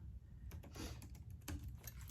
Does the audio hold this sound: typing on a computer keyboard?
yes